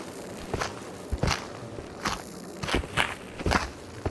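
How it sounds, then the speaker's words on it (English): Footsteps in the video game Into the Radius, crunching over gritty ground in an irregular walking rhythm, about seven to eight steps, close and moderately loud over a constant background hiss, with no talking. "Yeah, those are footsteps."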